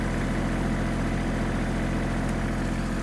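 A Kubota GL-320 Japanese mini tractor's engine runs steadily in fourth gear with the rotary tiller engaged, a loud, continuous low rumble that stays close and even throughout.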